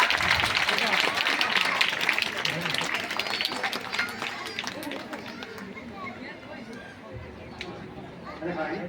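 Applause and crowd chatter greet a guest billed as Braille Dada at an event for the visually impaired, with dense clapping loudest early and thinning to a softer murmur of voices by the end.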